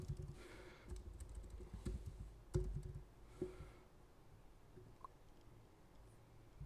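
Typing on a computer keyboard while setting up a Telegram chatbot, with soft, irregular key clicks at a quiet level and a few sharper taps, no talking.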